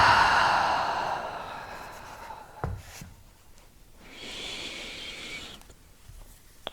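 Long, deep breaths during a bedtime yoga session, a slow airy inhale fading over a few seconds, then quieter breathy exhales, faint and close with no talking.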